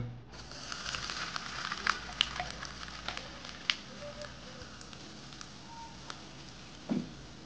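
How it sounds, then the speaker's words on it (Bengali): Two tablespoons of heated oil are poured over a cucumber salad, giving a soft crackling sizzle with scattered sharp pops and clicks that fades over several seconds, close and quiet. "দেন আমি এখানে দিয়ে দেব গরম করে রাখা 2 টেবিল চামচ পরিমাণ তেল।"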